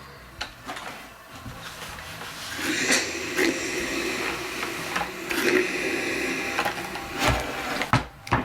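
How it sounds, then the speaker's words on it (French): A sewing machine runs along the edge of a reusable fabric bag in short bursts of mechanical whirring, interrupted by clicks and fabric handling, fairly close and moderately loud. "je vais venir piquer sur le bord à la machine"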